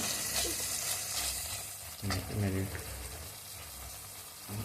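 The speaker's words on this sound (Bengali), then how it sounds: "ম্যারিনেট করা চিকেনটা আমি অ্যাড করে দিলাম।" Marinated chicken added to hot masala and frying in a pan for a Chicken Maharani dish, giving a steady sizzle with a sharper hiss and bubbling as it hits the oil, and a voice talking over it.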